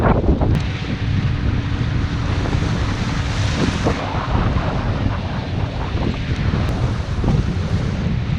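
Lake Michigan waves wash and splash over a breakwater near a red lighthouse at Grand Haven, a continuous roar of surf heavily buffeted by wind across the microphone.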